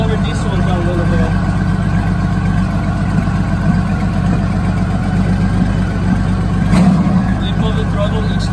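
A motorcycle engine running steadily during a throttle synchronisation check with a Digi Sync gauge, a loud close idle with a brief blip of revs, under someone talking.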